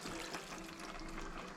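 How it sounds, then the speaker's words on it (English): Water poured into a pot of methi (fenugreek) chicken, a continuous close splashing trickle that stays steady for under two seconds. "I'm going to add some water into this, about 3/4 of a cup"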